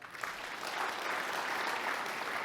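Conference audience of loan officers, brokers and realtors applauding at a live corporate event in Detroit, steady full clapping that swells slightly and holds, alone without speech.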